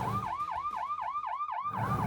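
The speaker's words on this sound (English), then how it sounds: "Sirens blared as officers secured the perimeter." A police siren wails in a rapid, rising and falling yelp, loud and close, cycling steadily for about two seconds.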